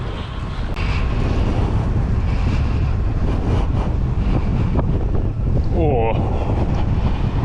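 A strong headwind buffets a cyclist's microphone while bikepacking, a loud continuous roaring rumble throughout, with a brief voice exclamation.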